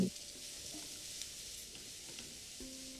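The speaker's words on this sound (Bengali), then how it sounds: "এখানে দিয়ে দিন পেঁয়াজ আর পেঁয়াজটা দেওয়ার পরে আপনাদের নেড়ে চেড়ে রেখে একটু ভালো করেই ভেজে নিতে হবে" Onions fry quietly in a pan with a soft, steady sizzle throughout, broken by a few faint scrapes of stirring.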